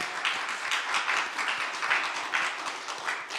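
A church congregation applauds the Promise choir during a Sunday morning service, a steady dense wash of many hands clapping at moderate distance, sustained and even throughout with no voices over it.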